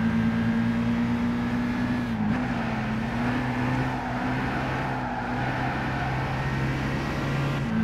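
Racing car engine in the Gran Turismo 5 video game, a steady loud drone held close throughout, with a brief dip in pitch a few seconds in, then continuing without pause.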